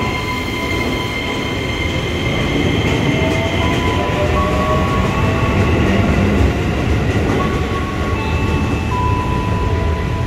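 A KRL Commuter Line train, JR 205 or TM 6000, rolls into Pasar Minggu station loud and close, steady rumble with squealing wheels and faint tonal whines from the rails.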